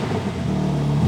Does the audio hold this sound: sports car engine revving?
yes